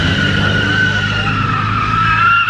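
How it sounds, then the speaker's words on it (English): A tuned Infiniti G37 races close by with loud tire squeal and skidding over a roaring engine, a sustained, piercing screech, while people talk excitedly. "That's a car."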